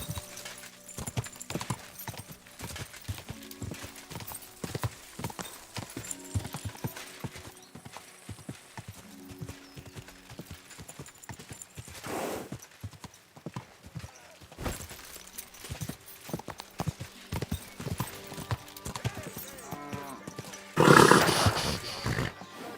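Steady clip-clop of horse hooves trotting close by in the video game Kingdom Come: Deliverance II, over a background of music and game sounds, with a brief louder burst near the end.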